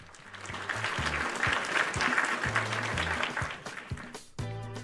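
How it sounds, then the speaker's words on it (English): A crowd applauding steadily, sustained clapping that swells and continues throughout, with a low hum underneath. "Actually, clap it up for Ricky."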